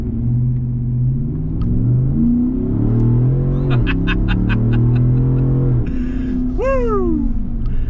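A Yukon Denali fitted with a JMS PedalMax throttle controller pulls away from a traffic light, its engine revving hard through rising gear sweeps with a loud, close rumble and a sharp upshift near the end.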